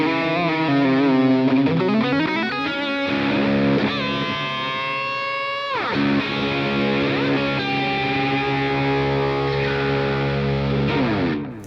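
An electric guitar plays through an overdrive pedal, sustained gritty chords and bends ringing loud and alone, with a long pitch slide and held notes decaying near the end.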